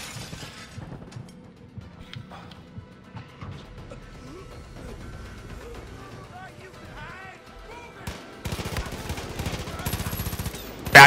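Gunfire in a co-op Far Cry 5 match: scattered shots and clatter under ongoing talk, building to dense rapid bursts of automatic fire near the end, loud and close.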